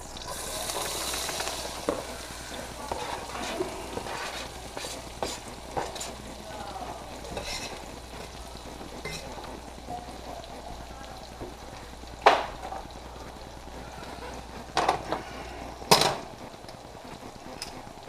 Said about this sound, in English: Let's drop an onion in here and see what happens